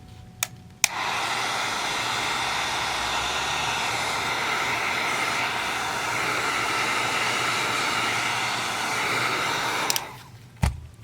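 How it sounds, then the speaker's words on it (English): A heat gun runs steadily for about nine seconds, warming folded, creased car wrap vinyl on a Subaru BRZ fender, its loud airy blower hiss starting and stopping with sharp clicks and no talk over it. "Now you want to take your heat gun, being that the material is folded and creased"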